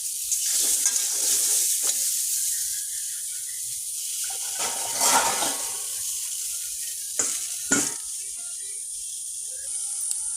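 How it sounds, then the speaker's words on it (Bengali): Pointed gourd (potol) fries in a pan, giving a continuous close sizzle with bright hissing and several sharper bursts and scrapes as the pieces are stirred. "পটলটা একটু ভাজা হোক"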